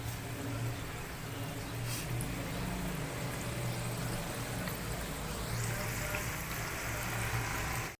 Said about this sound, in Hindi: अब इसमें अपने समोसे 1 बाय 1 में फ्राई करूँगी